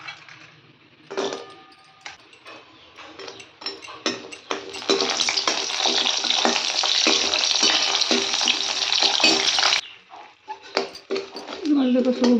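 Onions hit a hot pan in a home kitchen and sizzle in a steady, loud frying hiss that lasts several seconds, with stirring clatter and a voice talking before and after.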